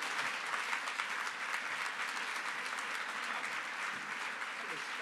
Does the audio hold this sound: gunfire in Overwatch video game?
no